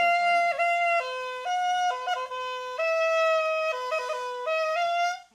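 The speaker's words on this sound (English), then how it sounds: "I found this sample of a Japanese flute called the shakuhachi." Sampled Japanese shakuhachi flute, clear breathy tones stepping between a few pitches in a slow melodic phrase, steady and prominent with slight bends at note changes, alone without talk.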